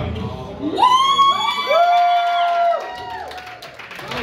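A crowd at the Miss Motor City Nightmares 2021 event cheers and hollers, with a loud rising whoop and overlapping high shouts swelling then easing off, close and lively.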